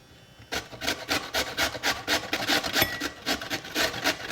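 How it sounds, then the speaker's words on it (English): A beet is grated by hand in steady, rhythmic rasping strokes, close and fairly loud, each scrape following the last without pause. "And I'll keep grating this beet here."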